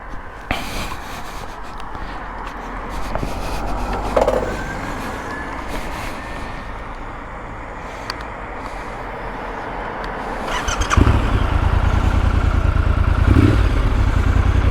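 A 2022 Triumph Scrambler 1200 XE, a 1200 cc twin-cylinder motorcycle, rumbles loud and close with a steady deep exhaust note that rises into a stronger, louder pull toward the end; no talking.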